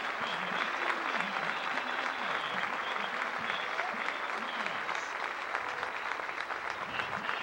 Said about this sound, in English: a festive day here at McKeithen Stadium, as the crowd now comes to its feet to applaud the Maris family.